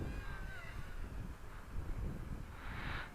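Steady outdoor wind roar buffeting a microphone while a Hubsan X4 H107C quadcopter flies, a dense, rumbling rush that swells slightly near the end, with a faint high whine threading through.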